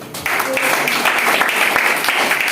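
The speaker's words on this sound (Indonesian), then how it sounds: "Mari kita sambut mereka dengan tepuk tangan yang meriah." A church congregation at a wedding blessing service at GBI Shine Jakarta bursts into applause for the new couple, a full, loud wash of clapping that starts abruptly and runs on steadily.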